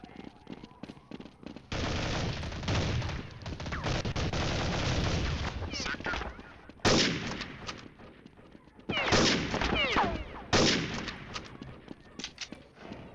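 Bursts of automatic gunfire from Counter-Strike 1.6, loud and close, coming in several long volleys separated by short pauses, with occasional single shots between them.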